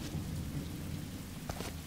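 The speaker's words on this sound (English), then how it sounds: "It's raining" Steady rain patters outdoors with a low rumble of thunder underneath, fairly faint and continuous, with a brief sharper crackle near the end and no talking.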